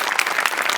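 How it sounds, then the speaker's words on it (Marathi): A studio audience at a Marathi comedy show breaks into a short, lively burst of many hands clapping together, brisk and fairly close. "तुझ्यासाठी स्पेशल टाळ्या"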